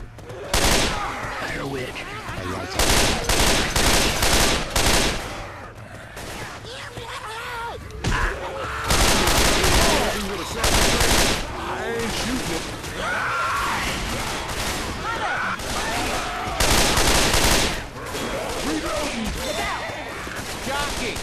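Rapid automatic gunfire in the zombie shooter Left 4 Dead, loud bursts of repeated shots broken by short pauses, with players shouting over the shooting throughout.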